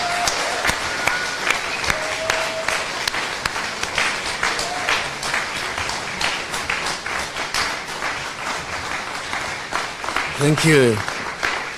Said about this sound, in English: with thunderous applause and vigelegele, please join me in welcoming our guest,